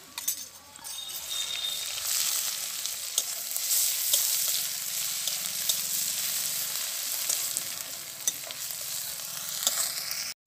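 Garlic paste hits browned onions in a pan, hissing with a steady bright sizzle, near and continuous, broken by occasional clinks and scrapes of a spoon stirring against the metal.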